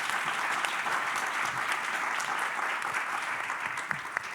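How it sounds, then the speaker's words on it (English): An audience at a panel discussion on energy demand scenarios applauds, a dense, even wash of clapping from many hands held at steady loudness throughout. "can we have a big round of applause for the panel?"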